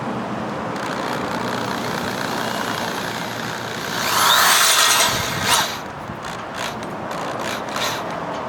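A self-tapping screw is driven into a prefab mount with a power drill, a brief whirring burst midway that rises over steady background noise and then cuts off, followed by a few small knocks.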